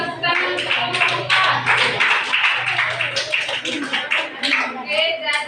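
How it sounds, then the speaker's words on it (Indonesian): Applause for a student group after a classroom presentation, with dense clapping throughout and voices and a low hum mixed in underneath. "tepuk tangan untuk kelompok"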